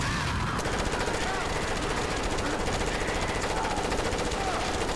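Rapid, steady gunfire from a Rambo light gun video game, a fast continuous rattle of shots. It sounds loud and close, like a machine gun firing without a break for the whole stretch.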